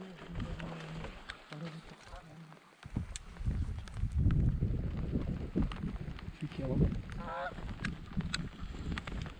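A flock of geese honks in repeated bursts during a North Dakota goose hunt in the rain, the calls fairly close and overlapping, with rustling and movement noise underneath and a brief voice near the start.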